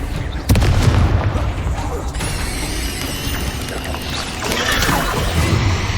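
Confringo and Bombarda spell explosions in Hogwarts Legacy thunder one after another: loud booming blasts with mechanical clanking and rumbling debris, dense and close, mixed with game sounds and some voice.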